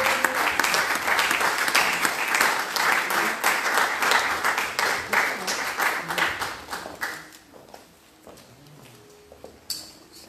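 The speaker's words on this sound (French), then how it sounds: "Nous applaudissons." Audience applause at an honorary title ceremony honoring women servants of God, a dense burst of clapping that rings steadily for about seven seconds, then thins into scattered claps and quieter room noise.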